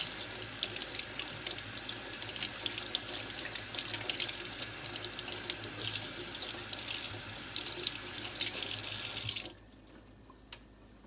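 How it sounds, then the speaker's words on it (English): A jicama rinsed under a running kitchen tap, a loud steady gush of water into the sink that stops abruptly near the end, leaving near silence, with no talk. "So once I'm done, I'm just gonna give it a quick rinse."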